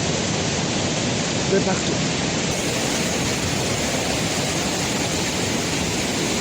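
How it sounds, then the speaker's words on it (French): Water pours down the Hérisson cascades in a steady, dense roar that fills the whole clip, close and loud, with a brief faint voice under it. "dès la première cascade, on voit tout de suite que ça coule"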